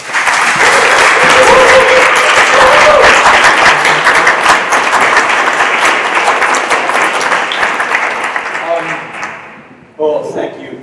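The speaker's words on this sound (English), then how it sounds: "give the warmest applause to the rock star" A live audience at a Startup Grind tech event in Barcelona applauds a guest onstage, producing dense, loud, sustained clapping for about nine seconds that gradually thins and fades before a voice starts speaking at the very end.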